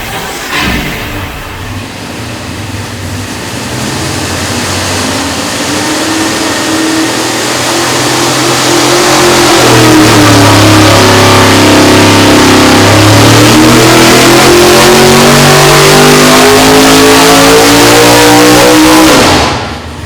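A big block engine fitted with a carb spacer makes a dyno pull, roaring loudly and continuously as its revs climb steadily for about twenty seconds before cutting off abruptly.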